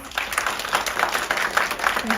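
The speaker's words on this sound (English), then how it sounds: "Please give them a round of applause" An audience at a children's dialogue panel event applauds the panelists, a steady wash of many hands clapping at moderate loudness, with a voice faintly present underneath.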